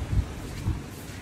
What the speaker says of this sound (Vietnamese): còn gió quá trời